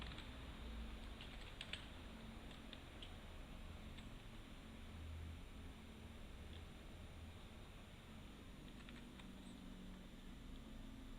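Steady, quiet typing on a computer keyboard, a continuous patter of soft key clicks close to the microphone with no speech, over a faint background hum.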